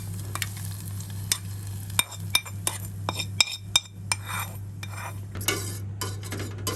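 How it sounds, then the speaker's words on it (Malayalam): A spoon stirring a ragi drink in a vessel, sharp clinks and scrapes in an irregular rhythm over a constant low hum, close and fairly loud. "നമുക്കിത് ജസ്റ്റ് ഒന്നിങ്ങനെ മിക്സ് ചെയ്ത് കൊടുക്കാം"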